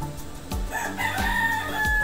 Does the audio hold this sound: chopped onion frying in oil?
no